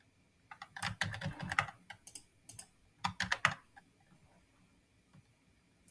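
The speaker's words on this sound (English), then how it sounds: "You need to type their full email address." Rapid keystrokes on a computer keyboard as an email address is entered, clustered bursts of close, crisp clicks with short pauses between runs, no voices.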